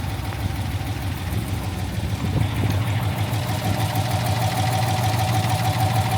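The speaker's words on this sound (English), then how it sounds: "That's a proper smooth running engine, that." Daimler Majestic Major Hemi V8 limousine engine idling steadily at close range, a low, smooth, even rumble throughout.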